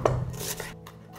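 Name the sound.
chopping tomatoes with a knife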